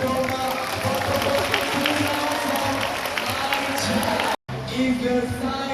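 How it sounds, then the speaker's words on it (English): An audience at a sea lion show at a Malaysian zoo in Kuala Lumpur applauds, with dense, sustained clapping and crowd noise throughout, briefly cut off near the end, with voices mixed in. "can you give a big round of applause for Domba?"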